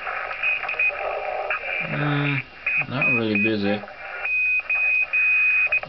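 A ham radio receiver tuned to the 40 meter band near 7.145 MHz, giving steady static hiss with sharp beeps and tones, while a person talks nearby.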